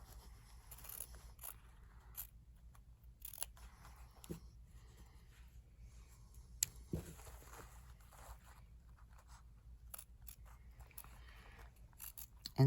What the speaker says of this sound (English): We're going to cut this out.